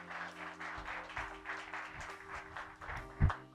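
An audience at a spiritist talk applauding the speaker, a soft, steady patter of many hands clapping at a distance, fairly faint, with a louder thump near the end.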